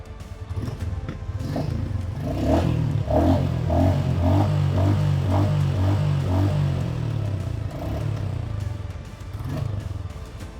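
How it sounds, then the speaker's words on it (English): The single-cylinder engine of a 2023 Royal Enfield Bullet 350 motorcycle idles and is revved, giving a deep, bassy thumping beat that climbs and settles, close and steady throughout. "it is a definite homage to the iconic duk duk sound of the bullets of yesteryear."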